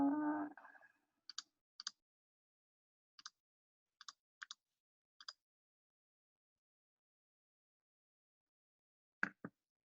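Computer mouse clicking in short light pairs, scattered through a quiet stretch after a brief voice at the start, with a louder double click near the end.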